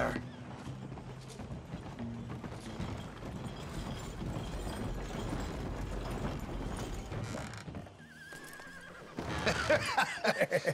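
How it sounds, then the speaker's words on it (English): A horse's hooves clip-clop steadily at close range while the horse neighs and whinnies, with faint mechanical ratcheting in the background and a louder burst of activity near the end. "Oh, the horse is like a, a swift one"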